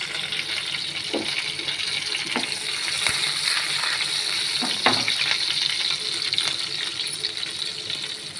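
Curry leaves and garlic sizzle and crackle in hot oil while a chutney of brinjal is cooked, a steady bright hiss throughout with occasional sharper pops and faint clinks of stirring.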